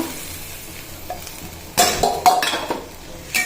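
Fried vegetables tipped into dal in a pan: quiet at first, then loud bursts of sizzling and stirring crackle up close, with no voices.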